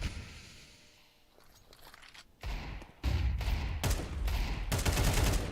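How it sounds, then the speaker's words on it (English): Rapid bursts of gunfire in a Counter-Strike match, starting faint and growing into loud, dense volleys of repeated shots across the second half. "They're pre-firing all of these angles, connecting all the headshots necessary."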